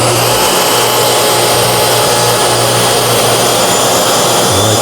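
A plunging track saw cutting a wooden table top to length, its motor giving a loud, steady high-pitched whine with a harsh broadband roar that holds without pause throughout.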